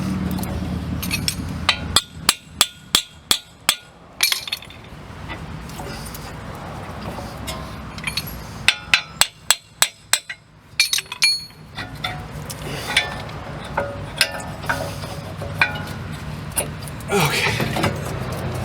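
Sharp metallic taps and clinks, in bursts and single hits, from knocking out a Toyota Camry front wheel bearing, close over a constant background hum, with a voice speaking between strikes.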